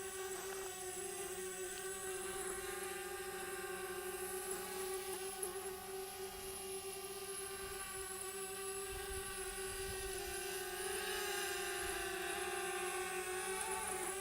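A DJI Spark mini drone hovers close by, its propellers giving off a steady, high-pitched whirring buzz that holds evenly throughout with no talk over it.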